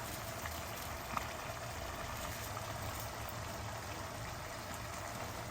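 Kheema curry simmering in a pot for Hyderabadi kichidi kheema khatta, a faint, steady bubbling hiss that carries on evenly throughout.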